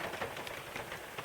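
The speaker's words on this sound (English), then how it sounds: "the pitter patter of the rain on my rain jacket" Rain pattering steadily on a rain jacket during a rainy-day hike, a dense, close crackle of small drops with irregular taps throughout the short stretch and no talking.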